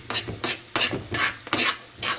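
Green chilies, garlic and ginger fry in a pan with bursts of hissing sizzle. They come in regular pulses as the mix is stirred, close up and fairly loud, with no talk.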